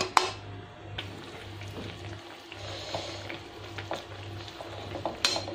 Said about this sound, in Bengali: এই যে আমার বেগুন রান্না হচ্ছে